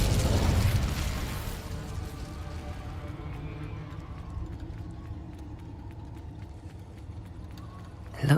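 Incendio fire spell cast in Hogwarts Legacy, a loud fiery burst at the start that trails into a long crackling, rumbling roar and fades to a quieter mechanical rattle, ending in a sharp pop.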